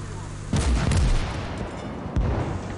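A tank's ammo rack explodes in the WW2 video game Gates of Hell: Ostfront, giving a heavy booming blast and then a second sharp bang a moment later, loud and close, over a dull battle rumble.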